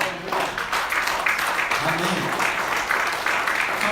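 Church congregation applause during a Spanish-language sermon, a dense, continuous wash of clapping with voices mixed in throughout.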